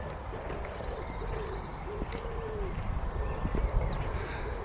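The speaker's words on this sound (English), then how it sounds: "Hear the birds." Outdoor birdsong with soft dove-like cooing and scattered high chirps over a gentle ambient wash, moderately distant and calm.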